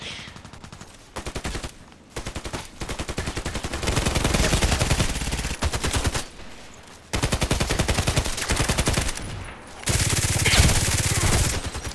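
Sustained, loud automatic gunfire in the online shooter Contract Wars, on the Old Sawmill map, comes in rapid bursts with short pauses between them, with faint talk under the shots.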